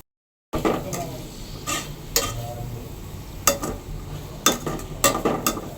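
Chopped onions going into a pan for egg korma: a steady sizzle of frying with several sharp scrapes and clinks of a spatula against the pan, close and fairly loud, after a brief silent start.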